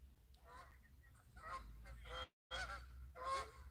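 Several geese honk in a flock at mid distance, harsh nasal calls repeating in clusters throughout, with a brief dropout of silence partway through.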